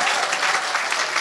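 A church congregation breaks into dense, continuous applause, steady and fairly loud throughout the brief moment.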